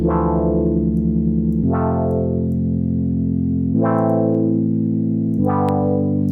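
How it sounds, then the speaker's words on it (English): Sustained, heavily distorted synth key chords from the Serum synth ring out one after another, thick and buzzy, with distortion driven hard but mixed low, no voices. "We're going to really drive the distortion, but bring the mix right down."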